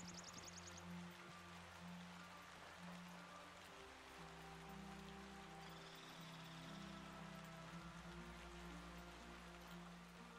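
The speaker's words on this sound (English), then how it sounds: "I don't know where to find anything to keep the rain off of Polly." Steady rain falls in the video game Yonder: The Cloud Catcher Chronicles, a constant soft hiss layered over a low ambient music drone with no one talking.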